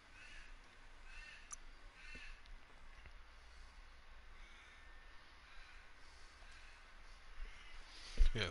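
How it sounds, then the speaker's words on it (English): Crows cawing outdoors, faint and distant, a few scattered calls over a low steady background hum. "Crows are going off outside."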